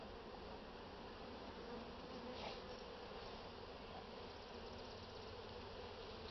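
Honey bees buzz at a hive during a spring inspection while bringing in pollen, a dense, steady drone of many wings held at an even level throughout, with no voices.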